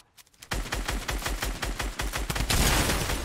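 Rapid bursts of gunfire in a Fortnite-style shooter game, a dense string of loud shots close together over about three seconds, ending in a sustained louder burst.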